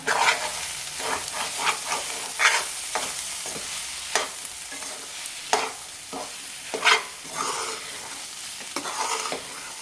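Egg bhurji is stirred in a frying pan, with loud, close sizzling broken by repeated scraping and spatula strokes in an uneven rhythm, no voices.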